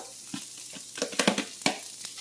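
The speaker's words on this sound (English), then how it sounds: "we're going to toss in our onion" Onion and celery tossed into a hot pan for shrimp and bean chili, giving a soft, steady sizzle with a cluster of sharper crackles and stirring clatters near the middle; fairly quiet, no talking.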